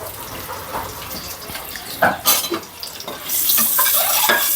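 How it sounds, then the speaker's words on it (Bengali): An egg fries in a home kitchen pan, a steady close sizzle with clinks and stirring scrapes partway through, the crackle swelling louder toward the end; no one speaks. "ডিমটা ভাজা হয়ে গেছে উঠাই নিচ্ছি হালকা করে ভেজে নিলাম"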